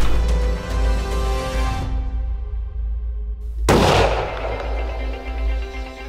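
A single loud rifle shot cracks out at a buck during a Texas hunt, a sharp blast that booms and rolls away in a long fading echo over steady background noise.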